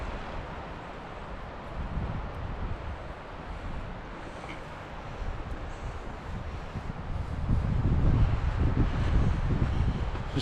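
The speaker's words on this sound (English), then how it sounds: "It's getting some pretty good wind gusts right now." Wind gusts rush through live timber on a forested ridge, a steady broad roar of moving trees that swells louder toward the end, with no voices.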